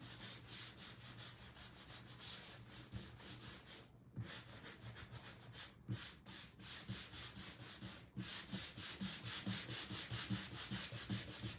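A wooden DIY kit piece is being hand sanded nearby, with continuous rhythmic scratchy back-and-forth rubbing strokes and a few brief pauses, with no talking.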